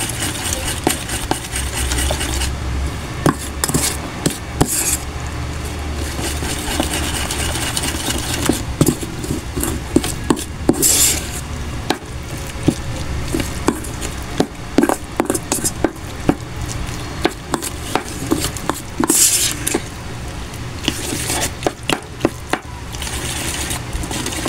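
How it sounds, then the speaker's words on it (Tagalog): A spoon stirs mussel fritter (ukoy na tahong) batter in a bowl, giving repeated light clicks and scrapes in an uneven rhythm over a steady low background hum. "Haluin po natin."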